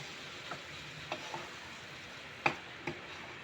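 Tomato paste cooking down with spices and fried ginger-garlic in a pan, giving a quiet, steady sizzle with a few sharp clicks and taps from stirring.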